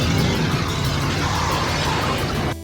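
Police cars chasing a stolen cruiser in the 1993 Super Mario Bros. movie: a loud, continuous roar of engines and road noise with tire squeal, steady and close throughout, then cutting off abruptly at the end.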